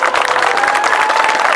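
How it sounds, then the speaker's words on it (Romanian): Crowd at the 2017 March for Life in Dej applauding mothers and grandmothers, dense steady clapping close by, with a whistle tone drifting through and a few scattered voices. "aș vrea niște aplauze așa mari pentru ele"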